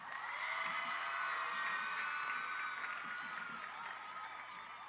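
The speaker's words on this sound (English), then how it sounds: "give them a massive round of applause" Students applaud at a university academic opening and first-year welcome ceremony in South Africa, a dense, steady wash of clapping from a large crowd with some cheering mixed in, sustained for the whole stretch and easing slightly at the end.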